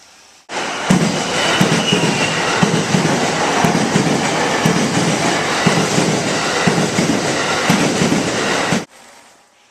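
A train passes on rails in Japan, its loud rolling roar holding steady for several seconds with a regular clickety-clack of wheels over rail joints before cutting off abruptly.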